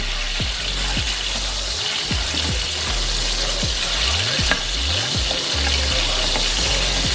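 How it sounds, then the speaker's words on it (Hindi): Garlic ginger paste frying in a pan for a kofta curry, a steady close sizzle with occasional stirring and scraping noises, no talking. "सबसे पहले हम वो डाल के इसे फ्राई करेंगे तकरीबन 1 से 2 मिनट के लिए।"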